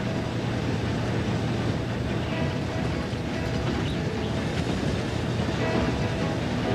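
A Class 47 diesel locomotive rumbles along from inside the cab on a run from Bredbury stone sidings toward Stockport, giving a steady, dense roar of engine and wheels on track without a break.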